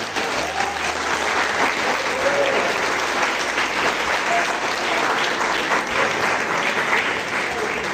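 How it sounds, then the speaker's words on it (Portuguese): A standing church congregation gives a sustained round of applause during an evening service, a thick, steady patter of many hands clapping with no break for the full length. "nós demos uma salva de palmas para o nosso amigo Jesus Cristo"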